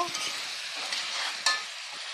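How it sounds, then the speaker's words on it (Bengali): Beef and onions fry in a pan with a bright, steady sizzle, broken by a few scraping stirs, heard up close with no voices. "মাংসটা পেঁয়াজের সঙ্গে কিছুক্ষণ কষতে হবে"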